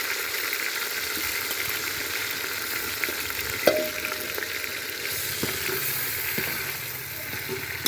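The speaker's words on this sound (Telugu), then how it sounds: "కొంచెం ఇలా చేసినప్పుడు దూరంగా కూర్చోండి, నూనె ఎగురుతుంది" Masala and tomatoes fry in plenty of oil for a home-style mutton curry, making a loud, continuous close-up sizzle with stirring scrapes and one sharp utensil clatter midway.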